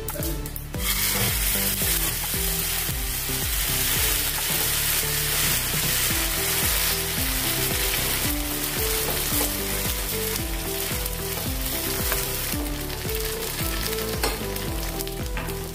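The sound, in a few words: sesame and mustard seeds sizzling in hot oil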